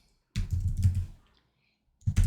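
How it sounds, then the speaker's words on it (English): Fingers type on a computer keyboard in two quick bursts of close, crisp key clicks, the first lasting about a second and the second starting after a short pause, with no talk. "I'm going to type in beautiful"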